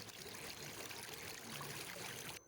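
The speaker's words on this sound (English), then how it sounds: "Do you hear the water?" Creek water flowing steadily in a calm autumn woodland, a soft, even rushing wash that stays faint and constant with no voices.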